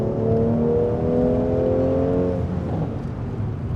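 A Mercedes C450 AMG (C43) engine and exhaust, heard from inside the car: a steady loud drone with falling harmonic tones as the transmission shifts, the exhaust note rumbling on alone without talk.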